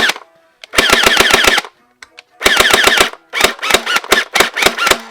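SplatRBall SRB370 gel blaster firing in close, loud bursts of rapid full-auto shots: a long volley, a pause with a couple of clicks, then another long burst followed by several short bursts.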